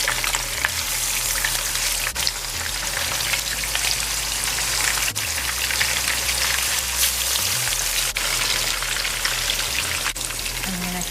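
Salmon pan frying in hot oil, a steady dense sizzle and crackle that holds even throughout, with a few faint clinks as the fish is turned and a low hum underneath.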